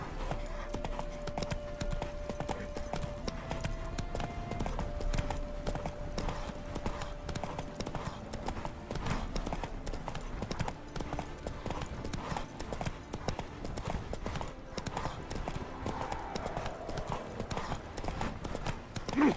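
Roach, a horse in The Witcher 3, walking with steady clip-clopping hooves throughout, up close over a faint game soundscape.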